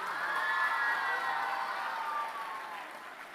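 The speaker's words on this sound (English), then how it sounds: "Put your hands together." An audience at a live Indian event applauds, a distant-sounding wash of steady clapping that holds level and then eases slightly, with faint crowd murmur beneath.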